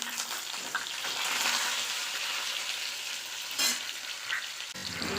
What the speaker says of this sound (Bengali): তেল গরম হয়ে গেছে, দিয়ে দেব আলুগুলো।